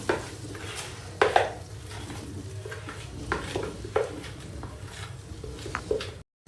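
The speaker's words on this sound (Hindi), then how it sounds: "अब इसको हम अच्छी तरह से मिक्स करेंगे।" A spoon clatters and scrapes against a pot while a mixture of ghee and lentils is stirred at home, with irregular metallic knocks over a low background sizzle and no talk.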